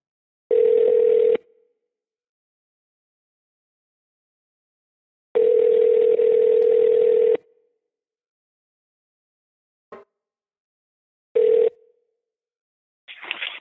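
A telephone call rings out while trying to reach a guest: a steady electronic tone sounds in separate bursts about a second or two long, with silent gaps between them. One faint click is heard before the last tones.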